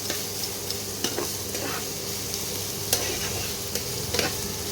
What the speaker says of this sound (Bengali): একটু লাল লাল করে ভেজে নিতে হবে।